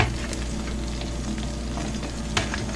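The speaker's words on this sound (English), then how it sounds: "Now we do the same, but with the onion and with the tomato. We start to drop this into the skillet" Onion and tomato fry in a skillet with a steady, close sizzle and a faint clack of a utensil near the end.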